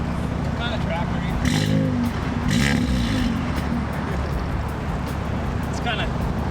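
A four-cylinder Audi engine with a broken exhaust idles steadily with a low, rough, tractor-like rumble, revving up briefly a couple of times; no one speaks.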